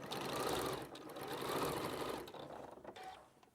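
A sewing machine stitches quilt pieces held together with a clip, a close, quick motor whir in two surging bursts with rhythmic needle ticking, easing off toward the end.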